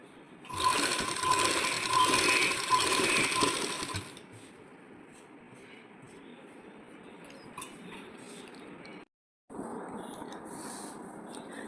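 Sewing machine stitching the lining onto a sleeve runs in a dense rattling burst for a few seconds, then gives way to quieter handling noise with a brief pause, nearby and with no talking.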